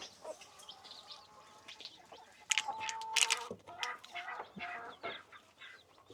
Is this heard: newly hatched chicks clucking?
yes